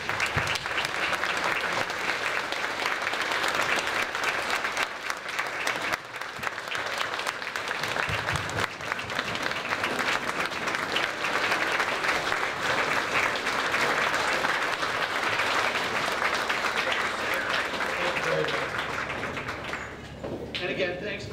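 Outdoor crowd applauding Gold Star veterans at a veterans banner picnic and medal ceremony, sustained dense clapping that carries on steadily before thinning out at the end.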